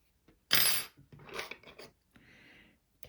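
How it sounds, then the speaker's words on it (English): Scissors snipping through yarn after finishing a crocheted facecloth, a sharp close cut followed by soft rustling and a faint scrape, quiet otherwise. "taking our scissors and cutting the yarn"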